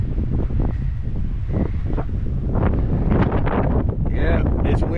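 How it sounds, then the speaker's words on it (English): Strong wind buffets the microphone on a windy day outdoors, a steady low roar with gusts rising toward the end, while a person talks over it. "Yeah, it's windy."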